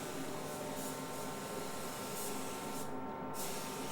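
A spray gun lays custom candy paint onto a car in steady banded passes, a continuous close airy hiss with slight surges as each pass sweeps across the panel.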